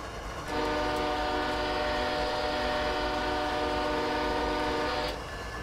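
An ES44AC locomotive horn in the Train Simulator 2017 game, Norfolk Southern Coal District route, sounds one loud, steady, sustained chord blast of about five seconds over a low rumble of the train, with no talk.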